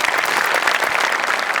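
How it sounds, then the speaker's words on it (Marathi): Enthusiastic audience applause at a Marathi stage show, a dense burst of many hands clapping together, loud and close, filling the whole moment. "एकदा जोरदार टाळ्या त्यांच्यासाठी झाल्या पाहिजे"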